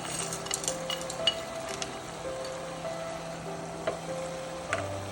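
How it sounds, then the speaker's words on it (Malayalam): Masala being stirred into chicken curry in a pan, with a low continuous sizzle and occasional light clinks of a spoon against the pan, close and without talk. "ഈ മസാല എല്ലാം ഈ ചിക്കനിലോട്ടേക്ക് നമുക്ക് പിടിക്കണമെങ്കിൽ മിക്സ് ചെയ്യണം"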